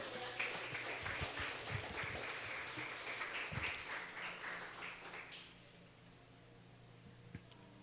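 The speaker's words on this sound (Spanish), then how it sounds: "Dele un aplauso al Señor porque Él le ama." Church congregation applauding during a Spanish-language sermon by Pastor Hector León, a dense wash of clapping that fills the room for about five seconds, then tapers off abruptly into quiet room tone.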